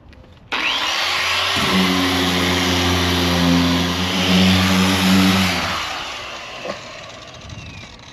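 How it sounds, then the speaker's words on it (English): An electric power sander working over a truck body as part of paint prep, a steady loud whirring drone that starts abruptly and holds for several seconds before easing off, close to the microphone with no talking. "So now we're gonna sand it, like actually sand it for real this time."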